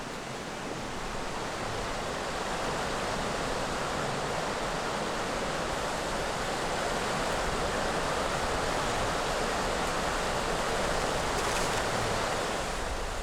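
River water rushing over an artificial weir on a salmon river in Japan, a dense, steady roar of broadband noise that stays even and loud throughout, with no voices.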